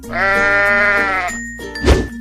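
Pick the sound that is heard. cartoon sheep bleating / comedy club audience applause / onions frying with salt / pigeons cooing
cartoon sheep bleating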